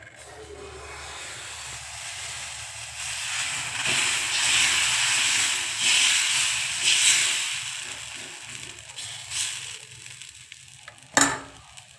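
Dosa batter sizzles loudly on a hot oiled pan, a broad steamy hiss that swells and fades, with a sharp utensil scrape near the end and no talking.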